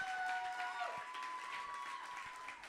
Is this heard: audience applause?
yes